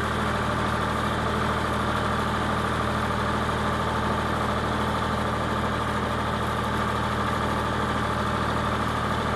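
A small farm vehicle's engine labours steadily uphill at constant throttle, a loud, continuous low drone with a steady mechanical hum and no speech.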